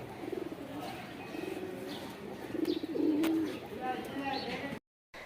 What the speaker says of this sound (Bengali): এই কবুতরগুলা দেখে অনেক বেশি ভাল লাগছে, শুধু কুক কুক কুক কুক